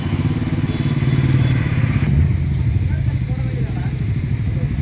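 A group of Bajaj Pulsar NS200 motorcycles ride together, their engines a steady, rumbling drone with occasional clatter, heard beneath people talking.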